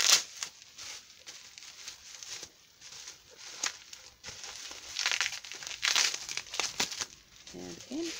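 Package wrapping is cut open during a thrift resale unboxing. Plastic crinkles and crackles up close, broken by tearing and crunching bursts that rise and fall.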